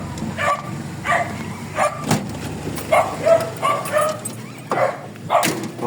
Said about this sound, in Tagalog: Ayan o, nagtatahulan na, naririnig nyo.